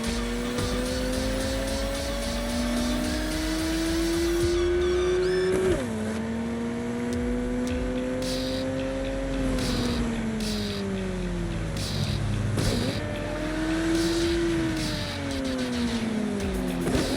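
An old Herrera car in Cyberpunk 2077 drives steadily, its engine tone rising and falling through gear shifts across a long, continuous run.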